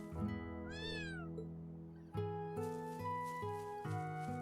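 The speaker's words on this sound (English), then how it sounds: "Meow." A cat in the video game Trails of Cold Steel III gives a single clear, rising-and-falling meow over soft background music, then the music carries on with plucked, stepping notes.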